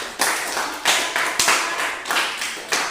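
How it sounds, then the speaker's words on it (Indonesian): Classmates clap for group 3 in a classroom, a handful of sharp, evenly spaced claps standing alone and close, each with a quick fade. "Ya, tepuk tangan untuk kelompok 3."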